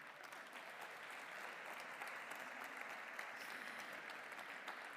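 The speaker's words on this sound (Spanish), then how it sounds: "Si os queréis podéis aplaudir" Steady, dense applause from a conference audience at a live summit in Galicia, continuous and even throughout with no voices standing out.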